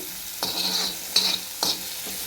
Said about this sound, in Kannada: ಸ್ವಲ್ಪ ಇದು ಈ ರೀತಿಯಾಗಿ ಫ್ರೈ ಆದರೆ ಸಾಕು